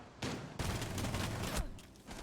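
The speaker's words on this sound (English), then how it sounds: "Shots are fired." A rapid burst of sharp gunshots fires over about a second, loud and close, followed by scattered quieter shots and ambient noise, in a Rainbow Six match.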